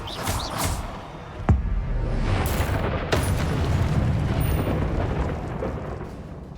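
A Confringo blasting spell from Hogwarts Legacy bursts loudly, with a sharp boom near the start and another blast a little later, each followed by a rumbling, crackling tail in continuous game noise.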